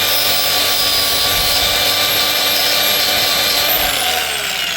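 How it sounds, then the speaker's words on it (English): A Scotch-Brite abrasion disc on a power tool grinds lettering off a tire, producing a loud, steady, unbroken whir and scrape that runs the whole time without pause. "I got this Scotch-Brite abrasion disc."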